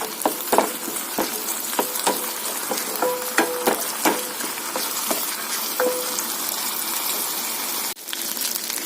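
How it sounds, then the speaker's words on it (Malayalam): Tomato paste frying with ginger-garlic masala as it is stirred, a soft continuous sizzle broken by frequent sharp clinks and scrapes of the spoon against the pan, close up and without talk. "നന്നായിട്ട് ഇളക്കി അതിന്റെ പച്ചമണവും മാറുന്നിടം വരെ ഇളക്കി കൊടുക്കാം."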